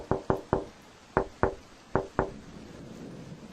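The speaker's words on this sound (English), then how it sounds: "It was then that we heard the distinct knock" Sharp knocks on a house ceiling come in short groups, about seven distinct hollow thuds spaced across a few seconds, fairly loud and isolated in a quiet room.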